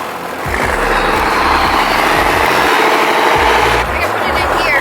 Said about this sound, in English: you're gonna mash your foot on the brake, and then when I step back, you're gonna mash and just floor the gas